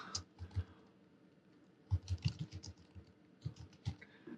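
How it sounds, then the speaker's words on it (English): Quick, quiet keystrokes on a computer keyboard come in short irregular bursts of clicks, close and alone with no talk. "I'm going to just type in."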